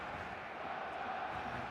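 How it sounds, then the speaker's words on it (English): A stadium crowd in the eFootball 2025 video game roars as a continuous, steady wash of distant cheering and chanting on matchday, with no clear individual voices. "The matchday noise at this place is truly special."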